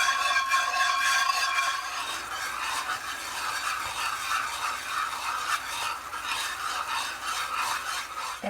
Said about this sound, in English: we're going to stir this until it starts to get thick and comes to a boil